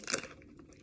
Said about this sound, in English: Sorry for the chewing noises.